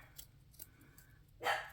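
A small dog barks indoors in the distance, faint and muffled, with a couple of quiet yips followed by one louder, sharper bark near the end, while scissors snip close by.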